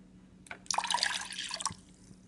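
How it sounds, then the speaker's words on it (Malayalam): Water is poured into a cooking pan for oats soup, a brief splashing, dripping gush that rises suddenly, runs for about a second, then tapers off, heard close and fairly quiet. "അതിന് വേവാനാവശ്യമായ വെള്ളവും ഒഴിച്ചു കൊടുക്കാം."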